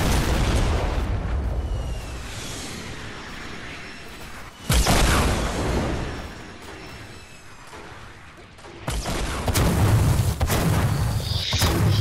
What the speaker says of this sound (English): they're shooting you with a grenade launcher